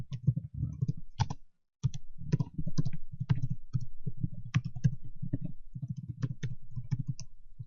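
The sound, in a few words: typing email addresses on a computer keyboard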